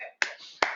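Two crisp, sharp hand hits land about 0.4 seconds apart, close and dry, with a brief trace of a voice trailing off just before the first.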